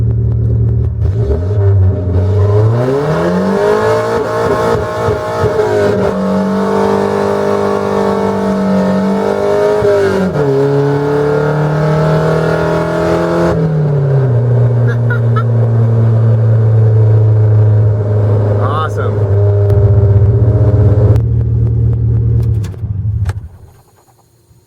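A Volvo 740's engine with a straight-pipe exhaust revs up loudly and holds, open and raspy, rising and falling in pitch, then cuts off at the end.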